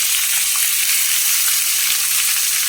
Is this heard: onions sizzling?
yes